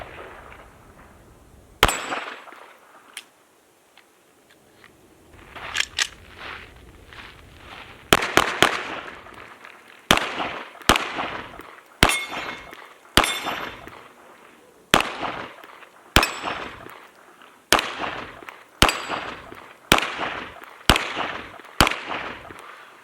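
Rapid gunshots from a handgun firing Winchester forged steel-case ammunition at targets, loud and sharp, coming in irregular bursts of single cracks that grow denser toward the end, with a brief quiet stretch early on.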